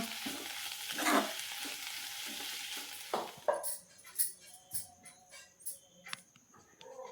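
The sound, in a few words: fresh fenugreek (methi) leaves added to pan, frying and stirring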